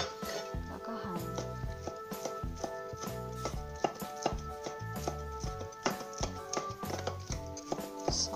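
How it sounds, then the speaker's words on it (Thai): A knife cuts Chinese sausage on a board in a home kitchen, giving light, repeated tapping chops over steady background music. "แล้วก็หั่น"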